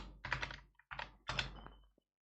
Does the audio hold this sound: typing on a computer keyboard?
yes